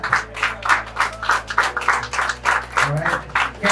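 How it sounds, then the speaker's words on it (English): An audience at a company event claps in a steady, regular rhythm, each clap sharp and close, continuing throughout with a low hum underneath. "Can we get a round of applause for that?"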